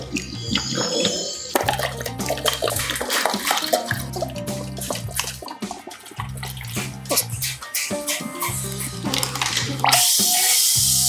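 Water splashes and pours steadily into a mint-flavour pani puri premix in a machine tank, a continuous close gurgling stream with clinking, ending in a brighter rushing spray.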